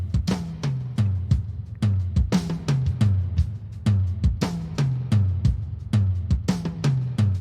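A bus blending the original drum track with drums recorded from a keyboard plays a steady groove of punchy kicks, booming low toms and bright snare and cymbal hits in a close, loud, regular rhythm.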